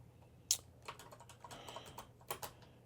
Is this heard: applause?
no